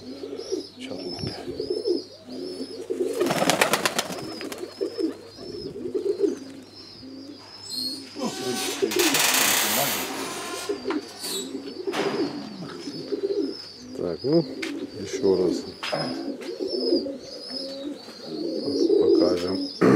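Pigeons coo repeatedly inside a pigeon loft, soft throaty calls recurring throughout, joined by wing flaps and rustling bursts, while people talk nearby.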